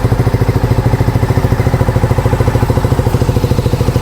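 A GPX MAD300 motorcycle engine idles steadily up close, a loud, even chugging with a fast regular pulse and a faint mechanical clatter.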